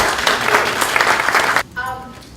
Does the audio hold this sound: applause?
yes